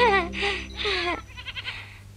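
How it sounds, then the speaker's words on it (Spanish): Goats bleating in the animated series Heidi, two long wavering bleats up close followed by a shorter, fainter trailing call. "Si quieres, puedes ir con Pedro y las cabras a los pastos."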